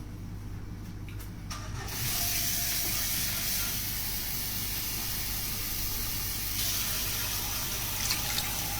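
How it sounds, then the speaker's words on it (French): Water is poured into a cooking pot on the stove, rising after a quiet start into a steady, close rushing splash that continues to the end, with a faint sizzle underneath. "Je vais rajouter justement un peu d'eau"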